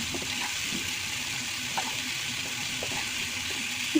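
Spice paste of garlic, chili powder and turmeric sizzles in a pan for Bangladeshi egg curry, a steady close frying hiss with a few faint stirring scrapes.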